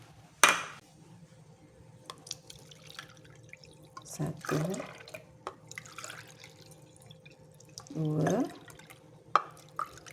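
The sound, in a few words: pouring measured cups of coconut milk and water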